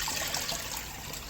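Water trickling through a partly exposed sieve in a koi IBC tote filter, a steady soft hissing splash that continues throughout at moderate level, nearby and alone.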